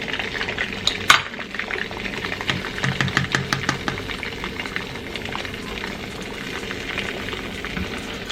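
An omelette frying in oil over medium heat, with a steady crackling sizzle, scattered sharper pops and a brief clatter of a pan or utensil near the start.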